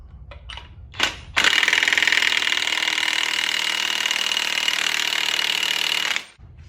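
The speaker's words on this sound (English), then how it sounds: "so we're going to just impact this on." Impact wrench driving a 15/16 bolt onto a Gen 5 5.3 L LT engine during a front accessory kit install: a few short bursts, then one long, loud, steady rattling run of about five seconds that stops abruptly.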